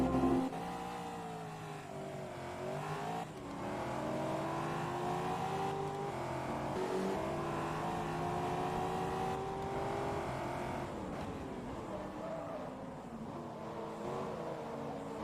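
Chevrolet Corvette race car in Forza Motorsport 2 holds a steady, loud engine drone that rises and falls in pitch as it revs and shifts through gears, with no speech over it.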